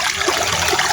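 A small stream trickles and burbles in a short, close, steady wash of water noise with no voices.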